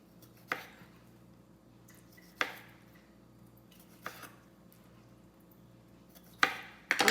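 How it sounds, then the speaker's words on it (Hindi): A kitchen knife halves cherry tomatoes for a salad, giving four or five sharp, isolated chops against a cutting board spaced a couple of seconds apart, close and fairly quiet with faint background hum between. "चेरी टोमेटोज़ हैं, इसको भी हम 2-2 पीस में काट के और इसमें डाल देंगे।"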